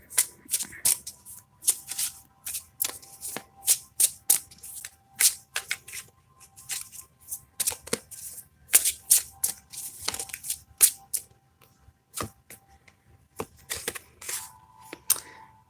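Cards are shuffled repeatedly for a reading, a close series of crisp riffling and snapping bursts with brief pauses between them.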